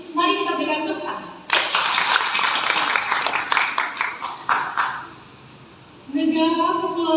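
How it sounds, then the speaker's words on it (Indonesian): Audience applause at a speech contest for Indonesia's independence anniversary in Kepulauan Yapen, a dense burst of clapping lasting a few seconds between stretches of a speaker's voice, which returns as the clapping fades. "Mari kita berikan tepuk tangan."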